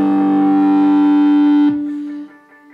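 Distortion effect in Ableton, a loud, buzzing harmonic tone held steadily for about a second and a half, then cut off and left to decay into a fading, ringing tail.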